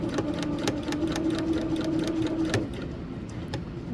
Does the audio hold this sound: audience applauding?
no